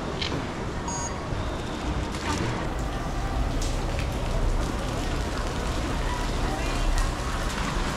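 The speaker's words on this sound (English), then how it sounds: "And there is too much rain outside." Heavy rain falling outside at the Da Nang night market in Vietnam, a steady dense hiss of downpour throughout, with people talking faintly and a few brief beeps.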